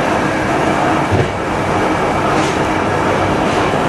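A passenger train crossing the Šenkvice viaduct near Trnava, a steady, loud broadband rumble of wheels on rails that holds evenly for the whole stretch without a break.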